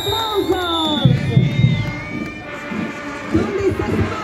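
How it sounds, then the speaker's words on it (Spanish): Crowd cheering and shouting at a school band contest in Tiquipaya, with loud bursts of voices and a mix of cheers and calls, plus talk running through the noise. "¡Los aplausos, los aplausos!"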